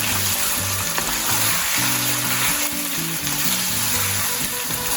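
Chicken frying in a pan with butter, chili and salt, giving a steady dense sizzle throughout, close and continuous, with no talking.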